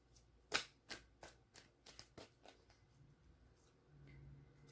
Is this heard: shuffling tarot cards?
yes